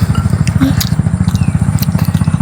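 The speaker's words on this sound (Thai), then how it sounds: "รถไถเสียงคือเสียงเฮลิคอปเตอร์เลย" A farm tractor engine chugs close and loud in a fast, even, thumping pulse that sounds a bit like helicopter rotor beats, with light clatter on top.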